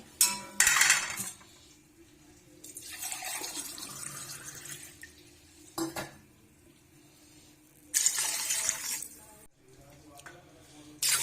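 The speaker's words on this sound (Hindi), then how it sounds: "3 गिलास पानी ऐड करेंगे।" Three glasses of water pour in bursts into a metal pot for mutton pulao, with splashing and a few clinks of cookware between pours.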